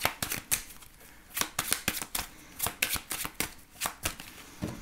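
Tarot cards being shuffled and cut by hand, a quick series of crisp riffling bursts in an irregular rhythm, close and clear with no talking.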